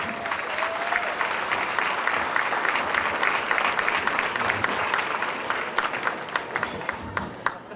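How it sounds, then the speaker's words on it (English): Dinner guests at a community society's annual dinner give sustained, loud applause to a troupe of Bollywood dancers, a thick crowd of clapping hands with occasional sharper claps standing out near the end. "Please give them another round of applause"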